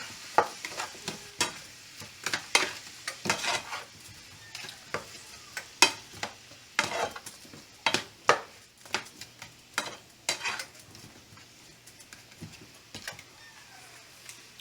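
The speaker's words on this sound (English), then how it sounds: "So mix this all together, mix all the seasoning together." A spoon scrapes and clacks against a pan as seasoning is mixed into sizzling food, giving irregular close knocks over a soft frying hiss, with no talking.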